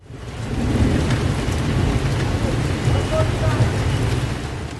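A heavy rain downpour during flooding in Ankara, Turkey, pours as a dense, continuous hiss and drumming, loud and steady throughout, with a deep rumbling low layer beneath.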